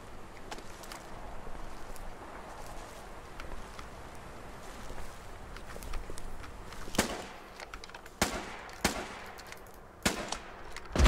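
Gunfire in the Foxhole prototype war game: a steady crackle of distant shots, then several sharp, loud nearby cracks near the end, with no voices.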